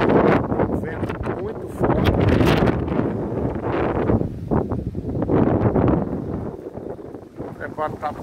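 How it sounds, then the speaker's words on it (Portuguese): Strong, gusting wind roars across a microphone at the Boqueirão reservoir in the sertão ahead of a rainstorm, buffeting loudly and continuously while someone talks over it. "E o vento está muito forte nesse momento."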